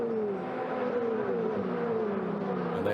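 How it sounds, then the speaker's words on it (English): Ferrari 488 Challenge race cars climb uphill at the Autodromo di Imola during a Coppa Shell race, a steady loud engine roar with engine notes sweeping down in pitch as the cars pass. "So the 488s roar uphill."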